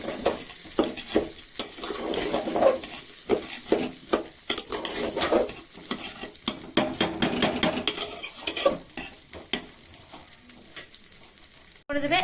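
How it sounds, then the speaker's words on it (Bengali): Cashews and raisins are stirred in a pan for pulao, with repeated scraping and clinking of a spoon against metal over a soft sizzle, steady and close throughout. "ভালোভাবে নাড়িয়ে নিতে হবে, এটা মিক্সড করে নিতে হবে কাজুটা আর কিশমিশটা।"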